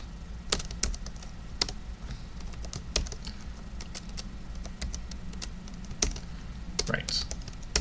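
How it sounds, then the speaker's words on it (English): Keys on a computer keyboard clack in irregular bursts, close and crisp, with a low steady hum underneath. "If I type"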